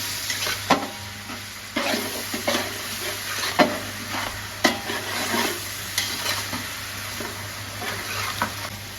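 Onion and ginger-garlic paste sautéing in oil for masala rice, with a soft sizzle under repeated spoon-stirring scrapes and knocks at irregular intervals over a low steady hum.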